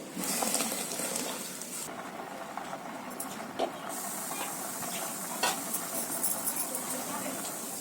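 Tomato paste cooks in a pot with garlic, chili paste and salt, a soft steady sizzle and bubbling with occasional scraping stirs and light pot clinks, fairly faint and close.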